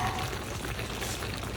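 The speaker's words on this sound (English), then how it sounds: "It is nice and sizzling hot," Sausage and sauerkraut sizzle hot in a pan after 40 minutes of cooking, a steady, dense crackle with low hiss running evenly through the whole short stretch, no voices.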